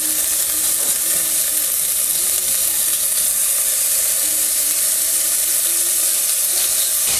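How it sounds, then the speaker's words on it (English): Bacon frying in a Dutch oven over medium to medium-high heat, giving a steady, loud broadband sizzle that runs unbroken with a few faint ticking pops underneath. "And we're just gonna cook the bacon."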